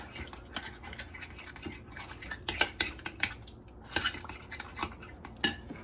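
Fish being mixed with beer batter in a bowl: quick, irregular scraping and clinking of a utensil against the bowl, close and fairly quiet, in short bursts.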